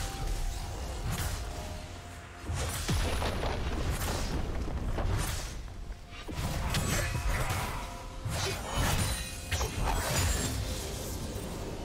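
A turret is destroyed in a League of Legends top-lane match between Aatrox and Graves, with repeated heavy booms, crashing impacts and whooshing effects in a dense, continuous game soundscape.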